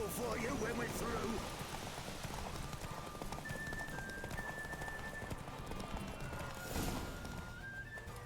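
Roach the horse galloping in The Witcher 3, steady rhythmic hoofbeats under a rider's voice and other game sounds, with a short whinny-like tone and some clatter mixed in.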